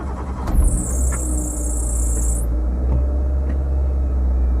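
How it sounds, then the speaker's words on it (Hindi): A car with its engine check light on is started: a low engine rumble runs throughout, with a brief burst as it catches and a high whine for about two seconds, then a steady idle. "जैसे मैं गाड़ी स्टार्ट करता हूँ"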